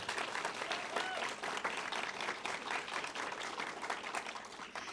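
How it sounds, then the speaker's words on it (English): Audience at a university Last Lecture event applauding graduating students, a sustained dense wash of many clapping hands at an even level throughout, with faint voices mixed in. "let's give a round of applause to those graduating today"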